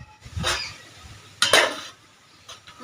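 A pot of marinated desi chicken for a village-style Indian chicken curry being covered with a lid: a soft scrape, then a sharper clatter of metal on metal, with a faint clink at the end and no talking.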